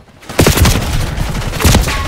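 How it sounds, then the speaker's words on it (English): A grenade explosion in Black Ops 6, a sharp loud blast followed by a second burst and rumbling debris, close and punchy within game sounds. "I'm gonna throw a grenade"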